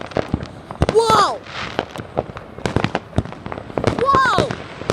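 A continuous volley of fireworks explosions at WrestleMania, sharp cracks and bangs piling up close by, with onlookers calling out in excitement between the blasts.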